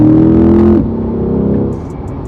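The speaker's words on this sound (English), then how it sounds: "so that was a third gear pull" Engine of a 2020 C8 Corvette pulling hard in third gear, a loud close droning rumble that eases off partway through to a lower steady hum.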